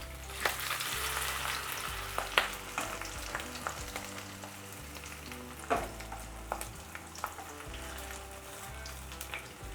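Fish roe wrapped in bottle gourd leaves frying in a pan, a quiet steady sizzle with occasional crackles and pops, alone without talk.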